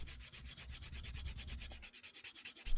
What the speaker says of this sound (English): This is a standard wooden edge slicker used to burnish the edges to make them smooth and